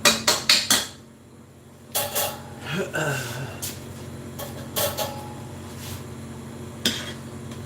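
A spoon stirs clam chowder in a metal pot, making a quick run of loud clanks, then scattered scrapes and knocks against the pot with quieter gaps between them, close up.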